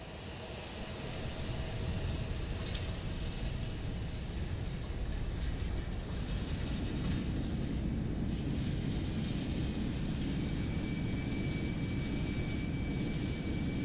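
Twin jet engines of a LearJet throttling back on landing in Microsoft Flight Simulator 2020 give a steady, broad roar that holds evenly throughout, with no voices over it.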